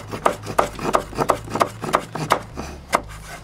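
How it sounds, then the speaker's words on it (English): A knife chops fresh basil on a cutting board with about a dozen sharp, close knocks in a quick, slightly uneven rhythm and a brief pause near the end. "Let's chop this up. It's the basil."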